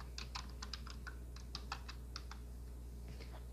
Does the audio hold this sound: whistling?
no